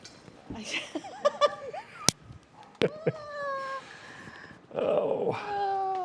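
A person imitates a cat meowing, likened to a cat in heat, with drawn-out wavering yowls, loud and close, alongside laughter and chatter from others.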